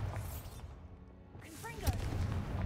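In the Hogwarts Legacy video game, a Bombarda spell bursts with a deep explosive thump and crackling debris after a quiet stretch, amid game ambience, with a person speaking faintly nearby.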